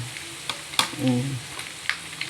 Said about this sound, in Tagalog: May tinapa na. Bawang sibuyas. Tinapa ang nilagay ko.